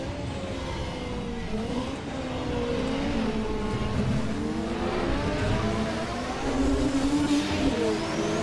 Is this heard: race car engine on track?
yes